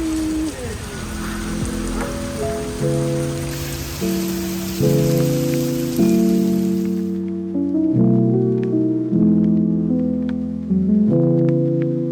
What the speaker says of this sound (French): Mais là il pleut tellement fort.